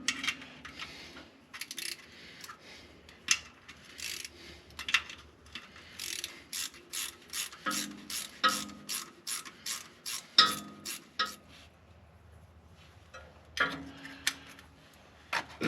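Ratchet wrench clicks while bolts come off a Jeep 3.6 oil pan, coming as quiet irregular bursts of rapid metallic ticking with short pauses between them.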